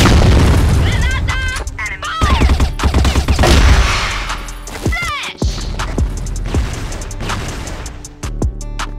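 Grenade blasts and gunfire in a competitive shooter game, heavy booming explosions followed by scattered shots and pops, with the player's voice shouting over the noisy firefight.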